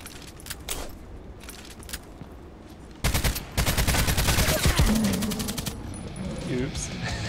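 Gunfire in a sniper-focused shooter game begins with a few faint, scattered shots, then breaks into a loud, dense run of rapid cracks lasting a couple of seconds before fading into quieter background sound.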